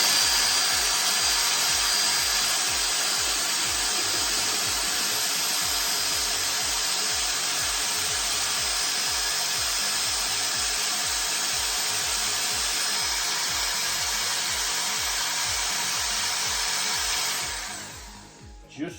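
A power drill stirs a pine needle pale ale brew in a loud, steady whirring drone with a rhythmic churning pulse, running for about seventeen seconds before stopping abruptly.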